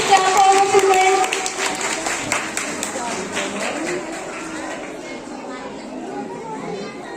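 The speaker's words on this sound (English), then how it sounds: "Please clap for the students" An audience at a school annual function claps for the students, a burst of dense applause that tapers off amid children's voices and general chatter.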